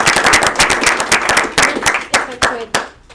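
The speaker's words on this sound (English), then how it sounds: "Round of applause to Karen." Applause breaks out at a township board meeting, a dense burst of clapping from a room of people that thins out to a few scattered claps.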